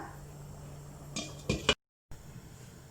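A lid set onto a pot of rice for prawn mandi makes a couple of close, short metallic clinks and a final clatter, then the sound abruptly cuts out.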